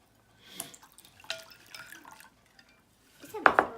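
Cold water poured from a container into a bowl of jelly mix in a home kitchen, giving brief splashy liquid spatters and drips, with a louder splash near the end and people talking quietly nearby.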